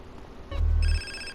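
A phone rings in the video game GTA San Andreas, a short electronic ringtone tone cutting in over a low hum, bright and close, lasting under a second.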